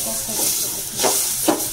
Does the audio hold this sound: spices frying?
yes